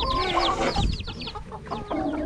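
Black Australorp chickens cluck and chatter in quick, overlapping calls close by, a busy flock of farm fowl with short repeated vocal bursts and no talking.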